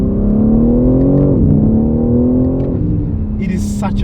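A 2023 BMW M3 G80 LCI accelerating hard in sport mode with manual shifting on a straight road: a loud, steady engine roar rising in pitch, dropping at a gear change and climbing again, with a brief higher sound near the end.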